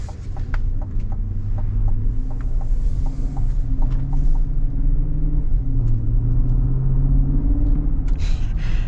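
V8 engine of a 2024 SUV cruising, a steady low rumbling drone with gentle swells in pitch as it accelerates, heard from inside the cabin with faint ticks and rattles over the continuous hum.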